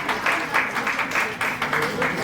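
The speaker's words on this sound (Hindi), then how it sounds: "बहुत जोरदार तालियां बजानी चाहिए हमें" Audience members at a Marwari women's conference in Andhra Pradesh clap in loose bursts, moderately loud, with a rhythmic rise and fall of hand claps and a voice faintly underneath.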